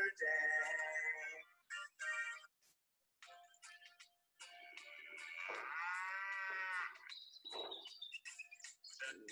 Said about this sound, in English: It goes moo, moo, moo.